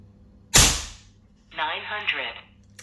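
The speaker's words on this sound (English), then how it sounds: "Let's just fire a few and see what happens." A Daystate Redwolf .25 air rifle fires a slug with one sharp, loud crack that decays quickly, followed by a voice speaking briefly.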